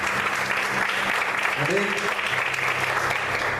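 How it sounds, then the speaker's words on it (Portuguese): A church congregation claps together during an evening worship service, a steady broadband wash of applause running the whole time, with a voice speaking over it. "Vamos aplaudir ao Senhor nesta"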